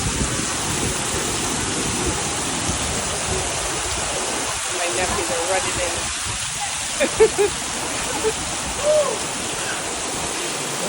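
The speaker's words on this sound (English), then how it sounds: "Look at this downpour" Heavy rain downpour pounding outdoors as a continuous loud roaring hiss, with people talking close by over it.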